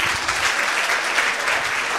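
Audience applause at a children's Bible-teaching session, a dense, steady wash of many hands clapping together at close range, continuous and even for the whole stretch with no voices breaking through.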